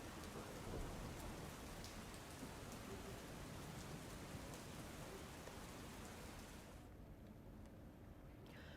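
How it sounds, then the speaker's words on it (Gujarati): Steady late-night rain pours down in a dense, even hiss, with a few faint distant rumbles, continuing without pause and easing slightly near the end. "મોડી રાત્રિથી વરસાદ પડી રહ્યો છે"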